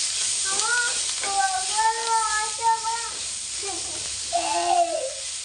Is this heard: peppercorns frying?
yes